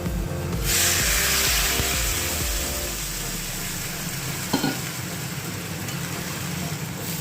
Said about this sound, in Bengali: এইবার আমি এর মধ্যে সামান্য একটু জল দেব